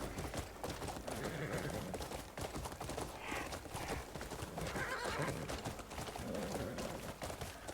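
Hooves clip-clop rapidly in a galloping rhythm while a horse whinnies a few times, all at a faint, steady level, in the video game Crimson Desert.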